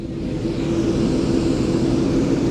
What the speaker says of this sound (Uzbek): samolyot hozirgina ushbu Washington shahridagi xalqaro aeroportga kelib qo'ndi